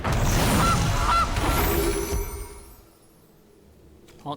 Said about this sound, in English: Honk for the goose.